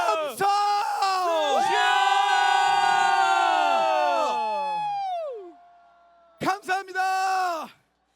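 Huge crowd at a large outdoor Seoul rally roaring together in a long sustained shout that fades out, then a second short burst of unison yelling, loud and reverberant.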